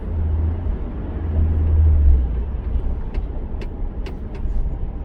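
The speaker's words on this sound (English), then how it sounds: "Traffic's starting to pick up now." Road traffic on a drive from a Detroit VA hospital, heard from inside a car as a steady low rumble and tire roar that swells briefly, with faint passing vehicle noise.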